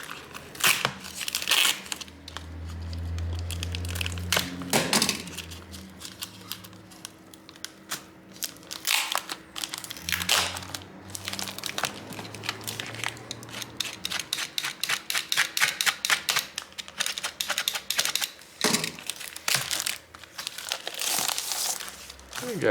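Adhesive tape is pulled and peeled off a Microsoft Surface Laptop Studio screen during a repair, producing close crinkling, crackling and rapid ripping clicks in bursts, with a low hum and brief murmurs early on.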